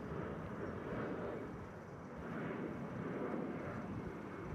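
A plane at DFW Airport in Texas gives a steady, broad engine roar that swells and eases slightly throughout, with no voices over it.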